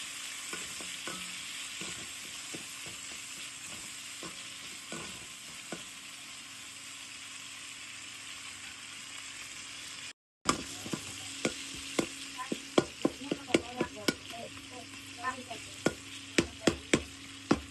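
Tomatoes sautéing in a pan for valaithandu kootu, a low steady sizzle with scattered spoon taps that grow sharper and more frequent after a brief break, close by and fairly quiet.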